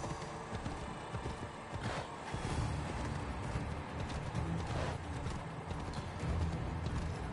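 Horse hooves in Assassin's Creed Odyssey clop in a steady galloping rhythm, moderately loud and continuous, with an occasional brief whinny-like sound.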